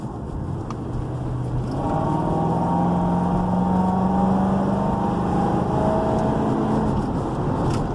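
A 2007 Ford Crown Victoria Police Interceptor engine runs steadily for the whole stretch, a continuous low hum with a faint rising tone partway through and no talking.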